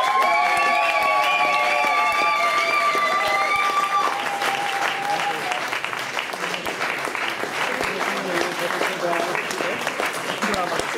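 An outdoor crowd at a night-race award ceremony in Zvolen applauds the winners, a broad, sustained wash of many hands clapping, with a voice talking over the start before the clapping carries on alone.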